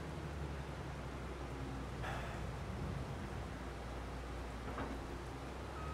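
Steady, faint rain hisses in Farming Simulator 22 on the Oberlausitz map during a soybean harvest, with no voices over it.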